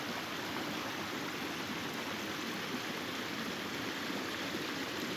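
River water flows along a riverbank by an abandoned 1830s farmhouse in spring, a steady, dense rushing hiss that stays constant and fairly close throughout, with no voices.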